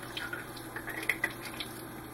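Delicate parts are rinsed under running water in a sink, a soft steady trickle with a few faint drips and small clinks near the middle, quiet and close with no voices.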